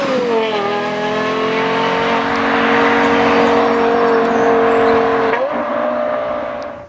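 Lexus LFA V12 engine roaring loud and close under acceleration, a sustained tonal exhaust wail that holds steady, then briefly breaks and climbs again near the end.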